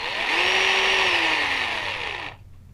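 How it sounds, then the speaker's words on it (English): LIDUO power drill running steadily, its motor whine holding a constant pitch before dropping slightly and cutting off near the end; close, loud and without talk. "you can see the drill is rotating"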